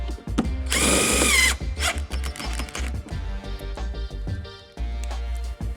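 A power drill drives screws into the side skirts of a BMW X5 G05 LCI during a body kit install, one loud whirring burst followed by clicks, ratcheting and handling noises nearby.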